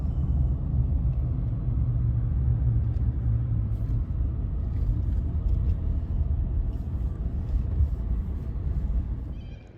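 A Toyota Landcruiser rolls into a resort and country club in Joondalup, its engine a steady low rumble with road noise heard from inside the vehicle, moderately loud and unbroken with no talking.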